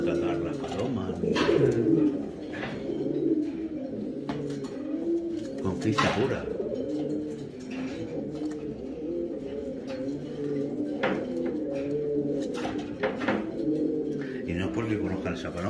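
Wild pigeons coo in a loft, their low repeated calls steady throughout and close by, with people talking over them now and then.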